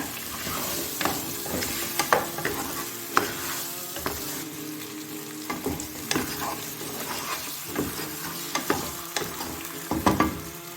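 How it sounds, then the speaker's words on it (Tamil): Masala for hariyali chicken frying lightly in oil and stirred, giving a moderate sizzle with repeated scrapes and knocks of a spoon against the pan at an uneven rhythm. "இதை ஆட் பண்ணிவிட்டு லைட்டாக இதை ஆயிலில் ஃப்ரை பண்ணிக்கோங்க."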